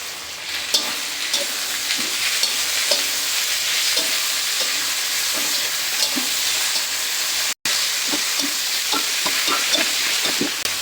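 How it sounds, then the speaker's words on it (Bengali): Chopped tomatoes sizzle in a pan with fried potatoes and onions, a steady close hiss with scattered scraping stirs and a momentary cut to silence midway. "এখন আমি টমেটো কুচি দিয়ে দিব।"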